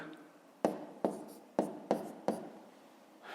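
Numbers written by hand during a school math lesson on multiplying decimals in a column: five crisp, separate pen strokes spaced about half a second apart, close and fairly quiet.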